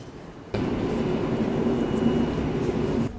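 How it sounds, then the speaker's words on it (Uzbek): Steady rumble of a train carriage heard from inside while riding between cities in Poland, starting abruptly and holding a continuous low drone with faint mechanical hum, no talking. "Biz hozir уже poyezdga chiqib qoldik."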